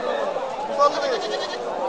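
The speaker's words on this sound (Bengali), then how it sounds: "দেখেন ছাগল আর ছাগল" Goats bleat at a crowded goat market, one wavering cry rising among the bustle while people talk nearby.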